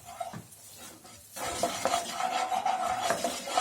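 A spoon stirs wheat flour into a wet pesto mixture in a pan, with soft scraping taps at first, then a denser, louder stretch of scraping and faint sizzling, all close and without speech.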